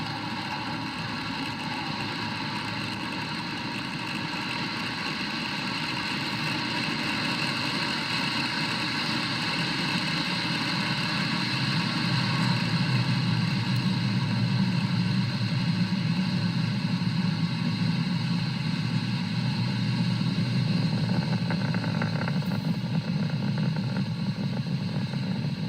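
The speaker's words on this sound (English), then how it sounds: "Falcon 9 has successfully lifted off from Pad 40 at Cape Canaveral" A SpaceX Falcon 9 rocket lifting off from Pad 40 at Cape Canaveral makes a steady, distant engine roar. The deep, unbroken rumble holds for the full length and swells slightly as it continues.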